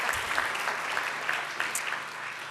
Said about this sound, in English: They like clapping on these.